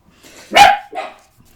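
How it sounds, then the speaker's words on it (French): A neighbouring dog barks twice close by, a loud sharp bark followed by a shorter second one, with quiet between. "C'est le chien d'à côté qui aboie."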